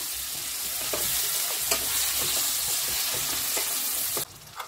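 Stuffed eggplants frying in oil for Chettinad masala, a strong continuous sizzle with repeated scraping stirs, close, cutting to a quieter hiss near the end with no voices.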